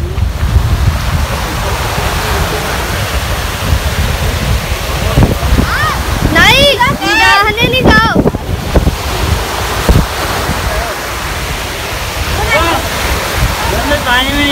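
Water flows and rushes loudly and continuously outdoors, mixed with heavy wind buffeting the microphone, while people talk over it in the middle.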